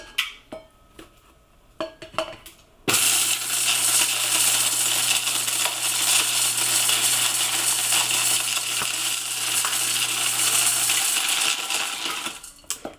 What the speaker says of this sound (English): The nibs are falling everywhere